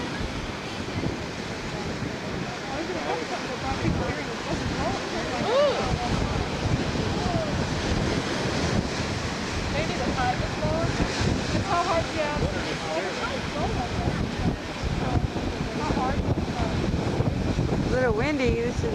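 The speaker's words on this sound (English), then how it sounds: "See that blowhole? See how it blows it up?" Ocean waves surge through a lava-rock blowhole on the windy coast of Oahu, a continuous loud roar of surf mixed with heavy wind buffeting the microphone.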